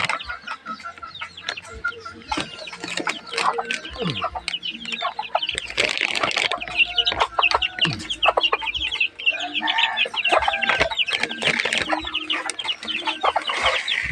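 Chickens, including a hen and young chicks, cluck and chatter continuously and close by while being fed, with a dense overlapping stream of short calls and occasional louder squawks throughout.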